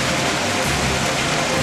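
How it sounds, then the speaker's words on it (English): Softball-size hail pours down in a steady, dense roar of hard pelting impacts, loud and continuous with no pauses. "Now it's been hailing for 10, 15 minutes."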